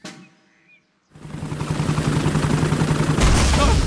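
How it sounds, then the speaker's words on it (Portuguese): In a cartoon, after a brief quiet moment, a helicopter's rapid rotor chop starts up and swells louder and closer, a fast steady thumping. "O helicóptero da Dona Coelha resgatou o Papai Pig."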